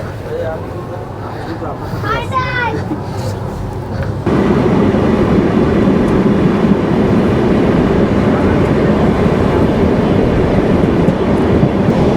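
Riding aboard the Jahanabad Express passenger train from Khulna to Dhaka, a loud, steady low rumble of wheels and carriage fills the clip, growing heavier partway through, with a brief burst of voices early on.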